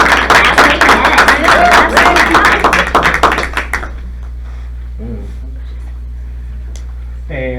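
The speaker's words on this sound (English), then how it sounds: "if you could give a round of applause" Round of applause from a board meeting audience, brisk clapping from a modest crowd that fades out after a few seconds, leaving a quiet room with faint movement.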